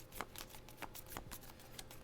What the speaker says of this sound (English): Shuffling 3 cards is quite difficult.